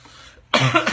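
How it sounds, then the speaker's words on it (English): A person coughs once, a sudden loud burst after a quiet moment, close to the microphone. "There we go, coughing again."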